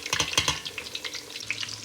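Eggplant sizzling and crackling in hot canola oil, close up, with a few clinks of stirring early on and a steady frying hiss throughout.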